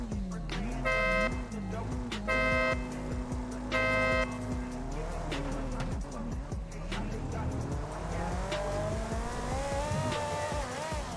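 Alfa Romeo drift car during Formula Drift Englishtown qualifying, its engine revving and bouncing off the limiter, with a few short horn-like tones early on and voices running over the loud, continuous roar.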